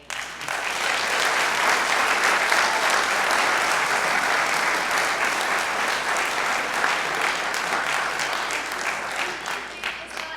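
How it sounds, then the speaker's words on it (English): Audience applause at the final round of a venture competition, a dense, sustained wash of clapping from a large crowd lasting about ten seconds before tapering off. "But first off, another extraordinary round of applause for the Stumberg family."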